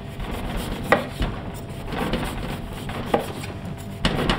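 A sharp knife trims and peels a swede, giving a close, rasping scrape broken by a few sharper knocks against the board.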